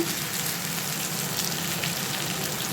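Rani fish tawa-frying in a pan makes a continuous, dense sizzle with fine crackling, steady and close throughout with no voices.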